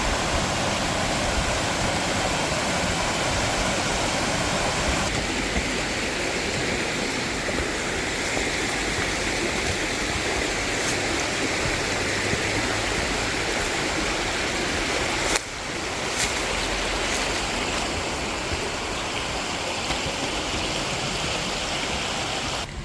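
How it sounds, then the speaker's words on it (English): Small waterfalls along a wooded hiking trail in Alabama give a steady, broadband rush of falling water, continuous and fairly close, with no voices over it. "We still have tiny waterfalls."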